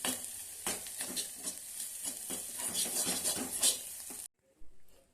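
Spoon stirring chili powder into a dry egg fry in a pan, a close, steady scraping and sizzle that runs for about four seconds before stopping abruptly.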